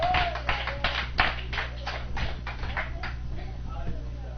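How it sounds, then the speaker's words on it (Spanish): A church congregation applauds, a brisk patter of many hands clapping at a moderate distance, with a voice speaking over it. "Fuerte aplauso al Señor y nuestro hermano con nosotros"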